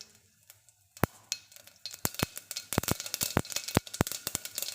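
Mustard seeds hit hot ghee and begin popping in sharp, irregular cracks that grow denser over a quiet sizzle, close and crisp.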